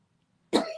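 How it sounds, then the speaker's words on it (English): A single sharp cough bursts out of silence, close and fairly loud, with a brief rasp trailing after it. "Is that you making a cough?"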